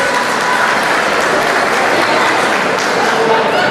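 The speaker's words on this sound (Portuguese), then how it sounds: "Vamos aplaudir Manuel Marcos." An audience at a silver jubilee celebration applauds a performer being introduced, with loud, thick, continuous clapping that fills the room from start to finish, without talk.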